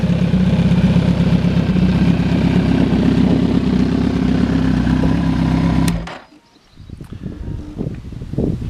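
A motorcycle engine with a baffled exhaust idles steadily for about six seconds with a deep, loud, even rumble. It then cuts out, leaving quieter clicks and rattles.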